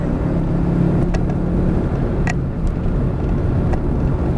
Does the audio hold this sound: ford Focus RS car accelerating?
yes